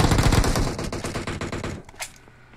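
Rapid automatic gunfire in the PUBG video game, a loud close burst of fast repeated shots that tapers off into scattered fainter shots toward the end.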